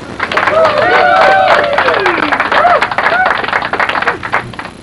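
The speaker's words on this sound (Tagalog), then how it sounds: "Palakpak mo na." People clap in quick, uneven bursts after a repaired Oppo F3 Plus phone with a replaced LCD powers up and works. The clapping is close and runs under loud, excited voices.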